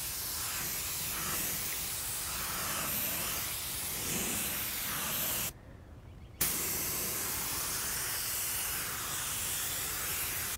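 A pressurized spray gun sprays car detailing product in a steady, close hiss that cuts out briefly midway, then resumes slightly louder for the rest of the clip.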